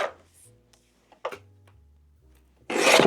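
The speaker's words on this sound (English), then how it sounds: "So trimming is easy." Blade trimming a paper notebook cover in a home craft setting, heard as a few short, close rasping cuts separated by quiet gaps, ending in a louder scraping stroke.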